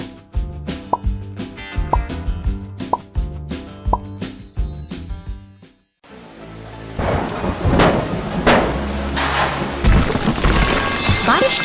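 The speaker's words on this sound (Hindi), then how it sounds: "बारिश की बूंदें इस शांत निर्माण स्थल पर गिर रही हैं" Rain pours steadily over a quiet construction site, with deep rumbles of thunder rolling in a loud, dense wash that takes over midway after a stretch of music.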